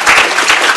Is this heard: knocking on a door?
no